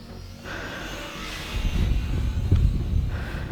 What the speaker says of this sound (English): it's a very quiet little plane, but because of the prop and stuff, here's one more